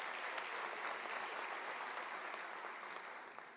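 Audience applause at a University of South Africa autumn graduation ceremony, a dense, steady wash of many hands clapping in a large hall, sustained throughout and tapering slightly toward the end.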